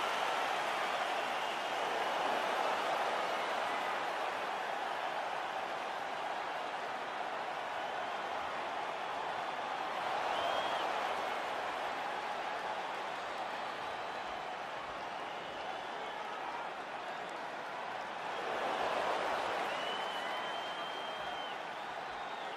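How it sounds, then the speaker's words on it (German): Crowd cheering and applause at a UFC event after a knockout win, a steady broad roar of a large arena audience with swells around the middle and near the end, continuous throughout. "Da ist der Jubel natürlich groß nach diesem Sieg im heutigen Fight, nach diesem krachenden K.O."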